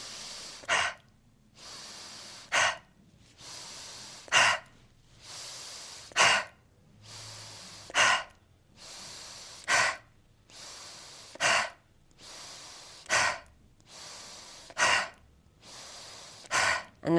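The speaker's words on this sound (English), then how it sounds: "So we're going to do 10 of these breaths." Tantric breathing exercise: about ten deep, evenly spaced breaths, each a sharp, close rush of air followed by a short quiet pause, repeating in a steady rhythm with no speech.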